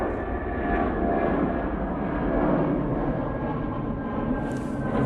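A Gulf Air airliner on short final at Manchester Airport passes as a sustained, moderately loud engine roar that peaks midway and eases off, with a soft high hiss near the end and no voices.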